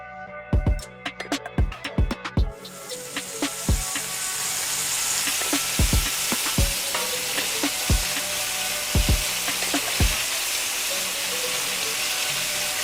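Beef and onions brown in a pot for a beef stew, a broad sizzling hiss that builds after a few seconds and is punctuated by sharp scattered clicks and scrapes of stirring, with no one speaking.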